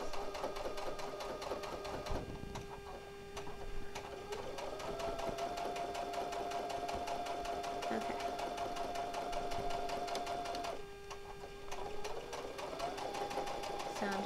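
Embroidery sewing machine stitching steadily throughout, a continuous whirring drone with a pitch that shifts up partway and again near the end, loud and close with faint talk in the background.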